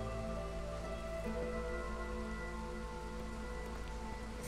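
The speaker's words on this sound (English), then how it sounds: "Thankfully, drizzle won't last much longer." Light drizzle falling steadily over a camp in the fantasy city-builder Against the Storm, a soft continuous hiss of rain with a low ambient drone beneath, even and unbroken throughout.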